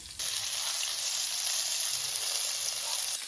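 Fish sizzles and spits in hot oil in a home kitchen, a steady bright hiss that starts abruptly and runs loud and close throughout, with no talking.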